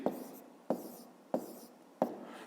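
Pen or pencil writes numbers on paper for a fifth-grade maths exercise, four sharp, evenly spaced strokes each trailing off into soft scratching, quiet and close.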